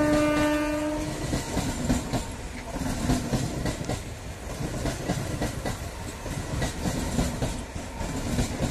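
A Ranaghat–Sealdah local train passes near Kalyani station. It opens with a loud, sustained horn blast, then a steady rumble and rhythmic clickety-clack of wheels over rail joints, close and loud throughout.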